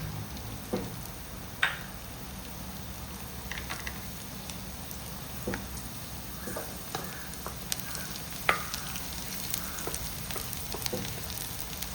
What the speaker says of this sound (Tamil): எல்லா பொருளும் வதக்கி எடுக்கிறதுக்கு எண்ணெய் ஊற்றிக்கிறேன். வடகம் போட்டுக்கிறேன்.